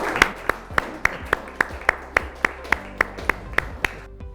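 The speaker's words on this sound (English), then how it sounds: "let's give her a huge round of applause" Steady rhythmic clapping at a school awards celebration for a prize winner, about fifteen sharp evenly spaced claps, clear and close, with little talk.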